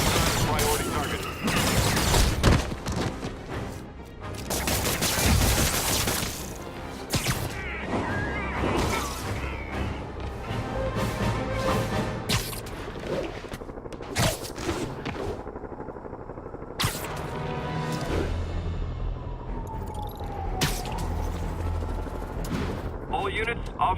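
Gunfire and explosions from the video game Marvel's Spider-Man, with bursts of shots, crashes and heavy impacts filling a busy combat scene while radio-style voices talk over the din.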